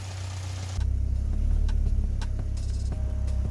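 A car engine fitted with a 72mm billet throttle body idles steadily and close by, a low even rumble with faint ticking over it, alone with no voices.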